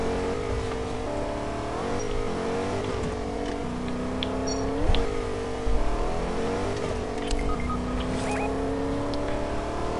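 A car engine in a video game revs and drones steadily with rising and falling pitch sweeps, loud and continuous throughout, with brief thumps near the middle.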